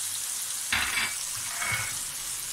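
Cumin seeds hit hot oil in a pan for an Afghani chicken Kabuli pulao, giving two short bursts of crackling sizzle over a quiet kitchen background, with no talking.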